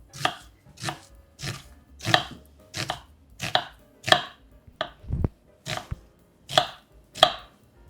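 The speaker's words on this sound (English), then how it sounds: "Cut the onion thinly." A knife thinly slices onion on a cutting board for Japanese cabbage dishes, giving about a dozen crisp, evenly spaced chops close by at a steady rhythm, with no talk.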